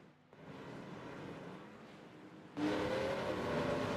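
Race cars roar off pit road during an Xfinity Series race at Homestead, a steady engine drone that jumps sharply louder partway through as cars accelerate nearby, with a rising whine over the rumble.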